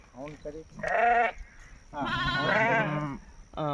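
Sheep in a herder's flock of about two hundred and fifty bleat in several quavering calls, some short and some drawn out, fairly close with quiet gaps between.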